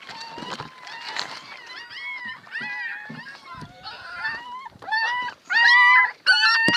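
Newborn puppies from a litter of ten, their mother dead, whimper and cry in a continuous chorus of high, wavering whines, growing louder and more insistent toward the end, with no talk over them.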